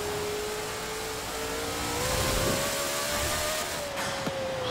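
A Shelby 1000 with an 1800-horsepower drag tune in the racing game Forza Horizon 4, its engine holding a steady high whine that climbs slightly, loud and continuous, with no talk.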